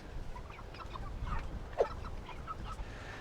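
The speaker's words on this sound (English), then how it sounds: "these guys right here, like these roosters, they're massive, man" Large farm roosters clucking intermittently in short, scattered calls over a noisy outdoor background, with one brief louder squawk partway through.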